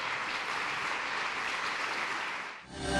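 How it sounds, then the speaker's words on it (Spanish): A church congregation applauds as an offering of palms to the Lord, a dense, steady wash of clapping that carries on for about three seconds before trailing off. "Puede usted brindar una ofrenda de palmas al Señor."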